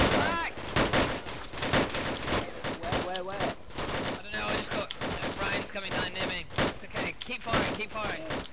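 Sustained suppressive gunfire in a military video game, rapid overlapping shots and bursts continuing throughout, loud and dense, with voices talking over the shooting.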